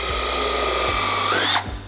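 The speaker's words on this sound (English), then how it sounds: "I'm just simply going to drill a pilot hole in each hole" Close, loud whine of a power drill boring a pilot hole to mount a Subaru WRX front splitter, steady for over a second, then rising in pitch as the bit breaks through before the motor winds down.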